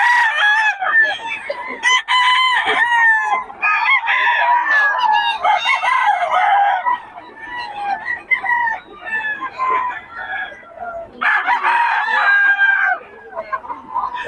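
Stag gamecocks at a gamefowl sale in Bocaue crow and cluck loudly and close by, with repeated overlapping calls and brief pauses between, and someone talks faintly in the background.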